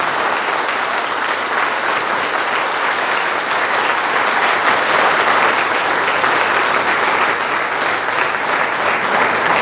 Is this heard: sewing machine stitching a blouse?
no